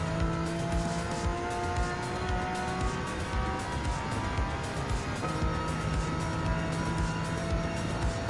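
Race car engine in the video game Gran Turismo 7, running on a circuit with a steady high-pitched whine and gear changes, loud and continuous with no talk.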